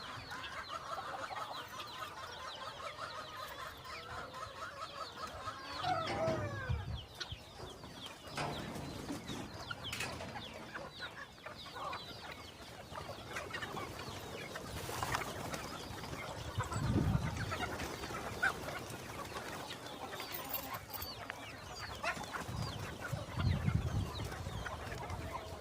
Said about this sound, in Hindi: चलो खोलते हैं मुर्गियों को।